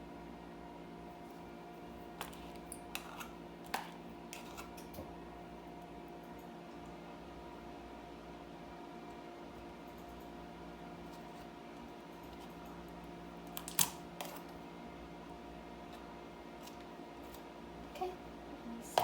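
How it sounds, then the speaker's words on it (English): A microwave oven runs with a steady, low electrical hum that drones on without a break, with a few faint clicks and ticks scattered over it. "I am going to melt this in the microwave."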